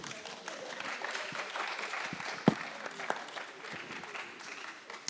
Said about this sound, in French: je pense qu'on peut encore applaudir David